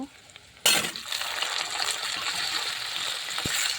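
Cauliflower and potatoes hit a hot pan with a sudden loud sizzle that settles into steady, close frying hiss, with a faint clink of a utensil near the end.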